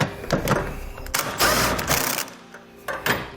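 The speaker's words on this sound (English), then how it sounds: "we'll take a 19mm socket and tighten all of our bolts down" A 19mm socket driving trailer hitch bolts on a 2014 Nissan, with several close, buzzing bursts of a powered driver or rattling ratchet separated by brief pauses and no talking.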